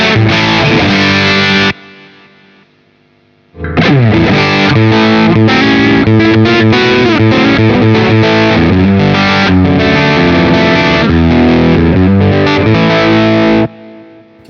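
Electric guitar runs through a Blackstar Dept 10 distortion pedal while its EQ is adjusted, giving loud, heavily driven chords and runs. A brief quieter gap follows the opening burst, then continuous strumming.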